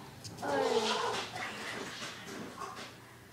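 Dog whimpers and yips in the video game Minecraft, a short whiny call with a rising tone followed by softer yelps, fairly faint and close.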